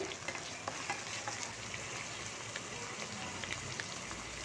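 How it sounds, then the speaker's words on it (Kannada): Grated beetroot for a Kannada beetroot palya frying in a pan, a steady soft sizzle with faint stirring scrapes, quiet and continuous with no voice over it. "ಇದು ಫ್ರೈ ಆಗಿದೆ ನೋಡಿ ಇನ್ನೊಂದು ಸ್ವಲ್ಪ ಫ್ರೈ ಆಗುತ್ತೆ"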